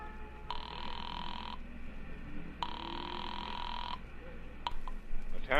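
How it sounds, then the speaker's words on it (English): A telephone rings twice after a payphone is dialed in an old detective radio drama, two long electric bursts separated by a pause over a background hum, with a brief click and voice at the end. "dropped the nickel in and dialed Republic 2809 again"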